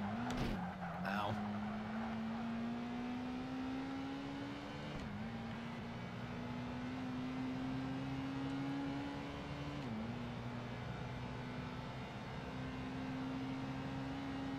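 A Honda S2000 races in Project Gotham Racing 2, its engine note climbing steadily through gears with brief drops at each shift, a tire squeal and impact near the start, loud and continuous throughout.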